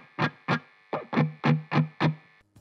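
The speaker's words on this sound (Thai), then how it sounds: "ถ้าสมมติว่าเรามิวมากเกินไปก็คือการเราวางด้านข้างของมือขยับลึกเข้ามาเสียงมันจะเริ่มไม่พอ" An electric guitar plays a riff with the palm muted too deep: seven short, choked, distorted chugs in a quick rhythm, close and alone.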